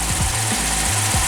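Dodge Magnum engine, carrying a 6.1-style cam and custom tune, running steadily just after start-up, with a loud continuous rumble and low knocking pulses throughout and no voices.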